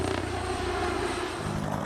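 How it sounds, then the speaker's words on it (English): A Comanche military helicopter with a five-blade rotor gives a steady, smooth whir rather than a distinct chop, a constant humming drone at moderate loudness with no talk. "it cuts down the normal chop, chop, chop sound from a helicopter into a more discreet whir that kind of blends into the background"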